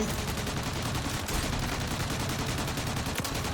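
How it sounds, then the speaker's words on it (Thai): Rapid automatic gunfire in Warzone, a steady dense stream of shots at three enemies with a gold-skinned weapon, loud and continuous with no pauses. "เราจะลองยิง 3 ตัวพร้อมกันเลยดีกว่า"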